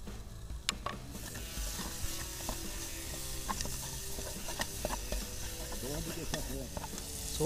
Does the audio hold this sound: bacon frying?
yes